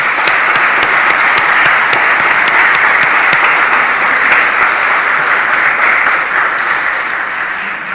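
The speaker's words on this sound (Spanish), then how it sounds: "Le damos un aplauso fuerte, fuerte, fuerte." Loud, sustained applause from a church congregation during a Mass and procession for the Virgen del Carmen, a dense steady roar of many clapping hands with sharper individual claps poking through, easing slightly toward the end.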